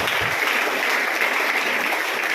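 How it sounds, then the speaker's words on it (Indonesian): Applause from a church audience at a Christmas 2022 gathering, a steady dense wash of clapping at constant loudness with no voices over it. "Tepuk tangan untuk Tuhan kita."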